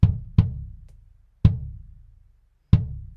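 Four isolated kick drum hits recorded with an AKG D112 dynamic microphone placed in the port hole, deep and punchy with a sharp attack and short boomy decay, irregularly spaced and close up.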